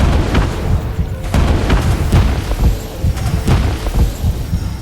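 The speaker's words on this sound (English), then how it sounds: "before their world was once again rocked by several more explosions." Repeated deep booms of missile explosions striking ice above a submarine, a sci-fi audio drama effect; heavy low rumbling impacts recur every half second or so, loud and continuous with no talk.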